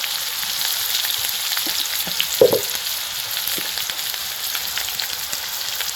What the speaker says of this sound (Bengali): তারপরে একদম কুচি করে রাহা দিয়ে দিচ্ছি পেঁয়াজ আর দিয়ে দিচ্ছি আদা